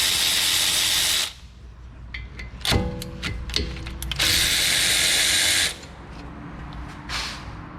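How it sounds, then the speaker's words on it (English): Ratchet wrench loosening the two 12 mm brake caliper bolts on a Honda CR-V, bursts of rapid clicking up close between quick metallic clacks and pauses; no talking. "next we're gonna go ahead and remove the caliper bolts"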